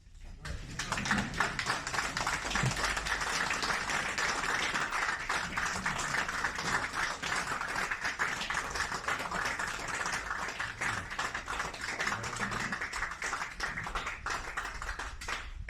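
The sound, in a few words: standing applause for outgoing board at meeting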